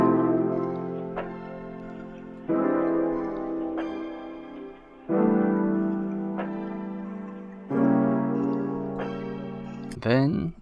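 A vintage-style sample built from piano and a soft sine pad plays in four repeating phrases, each entering with a fresh chord attack and sustaining warmly before the next, loud and close with no talking.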